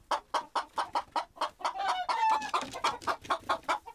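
Hens clucking in a steady, rhythmic series of close, clear clucks, about four per second, with a brief higher squawk partway through, in a mountain farmyard.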